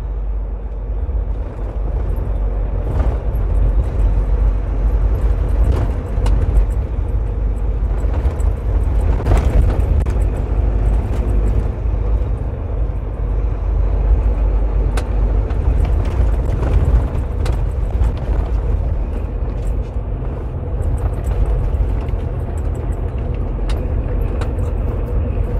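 A truck cab rumbles along a US city road, with a constant loud low engine and road drone and occasional thumps and bumps throughout, and no talking.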